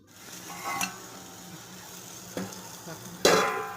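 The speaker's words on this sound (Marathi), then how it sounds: "गॅस फास्ट केलाय. एक एक भेंडी सोडते मी." Stuffed okra pieces being dropped one at a time into hot oil over high flame, a soft background sizzle broken by a few sharp bursts of frying as each piece hits the pan.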